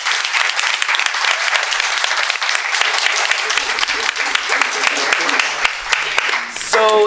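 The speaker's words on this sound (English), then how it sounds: "So give yourselves a round of applause." A studio audience at a live book-club show taping applauds themselves with brisk, steady clapping that holds throughout, and a voice begins just as it ends.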